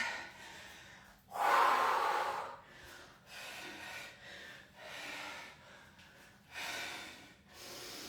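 Heavy breathing during a lower body workout, several loud, close inhales and exhales at a slow, uneven rhythm, with no voice.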